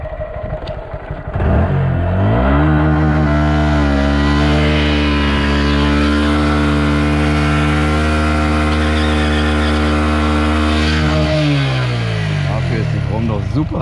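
Honda Grom motorcycle nearby, its engine climbing in a quick rev, then holding a loud, steady high pitch for several seconds before dropping back, practicing downshifting with a throttle blip; brief faint sounds around the rev.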